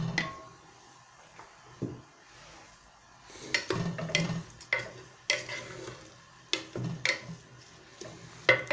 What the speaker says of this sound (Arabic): نجي يقلي هكا شوية ديال الزيت البصل